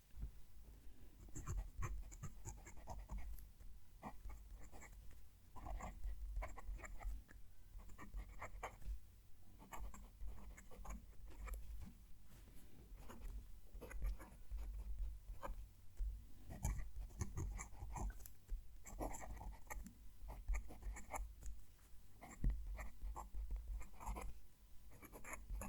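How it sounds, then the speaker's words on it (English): A steel-nib Ron Cari hybrid fountain pen scratches across paper close to the mic, a soft continuous rasp of strokes and scribbles over a low background hum. "move the mic down to the page so you can hear the pen writing"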